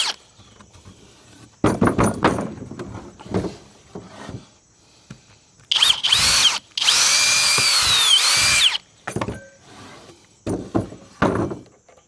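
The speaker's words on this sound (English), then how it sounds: "Now I just need to drill a 1/2 inch hole so the lag can fit through." A power drill boring a half-inch hole in a wall for a lag bolt during generator wiring work: several short loud bursts of whirring, then a longer sustained run of drilling, with thumps and pauses between and no voices.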